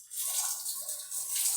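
Coconut oil is poured into a hot clay pot, giving a brief, close, airy hiss and sizzle that swells and dips over a second or so, with no voices.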